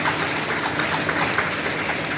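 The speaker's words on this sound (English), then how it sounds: "Give those ladies a round of applause." An audience at a school convocation applauding, a steady, fairly soft patter of many hands clapping from a distance, continuous and even with no speech.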